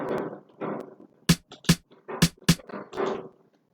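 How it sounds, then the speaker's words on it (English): An Afrobeat snare from an FL Studio beat cracks four times in a bouncing pattern, sharp bright hits set between softer, breathier percussive swells, close and alone without any talk. "so we have this snare also"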